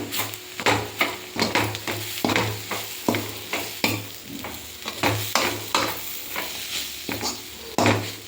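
A spoon scrapes and stirs through avarekalu sambar in a pan after chilli powder is added, a steady run of close, rhythmic scraping strokes over a soft sizzle, with no talking.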